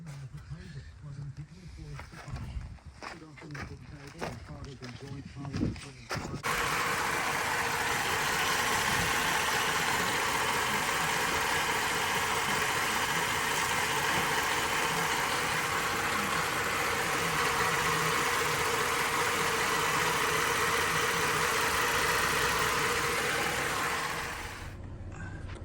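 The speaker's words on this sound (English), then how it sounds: "Let's start the engine and let's have a look." A Holden Alloytech V6 with a failing cooling system starts up and settles into a loud, steady idle, preceded by a few seconds of clicks and handling noise before the engine fires.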